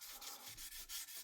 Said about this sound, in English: it'll start to feel smoother and it'll sound less rough as you're sanding